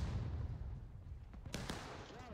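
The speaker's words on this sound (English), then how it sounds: "it would appear that the entire match has gone to volley fire" Civil War reenactors fire a musket volley from long range uphill during a battle reenactment at Schoolhouse Ridge: two sharp, distant reports crack out over a steady low outdoor rumble.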